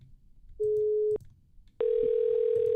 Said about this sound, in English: Do you hear it ringing now?